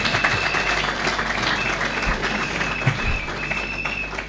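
Audience applause at a political party event in Mozambique, a broad steady wash of clapping held for several seconds at moderate loudness, with no voices over it.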